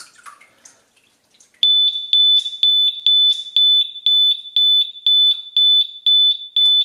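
After a few soft splashes, an Eve Water Guard water leak detector's piercing high-pitched alarm starts beeping in a fast, regular pulse, loud and close, continuing without pause.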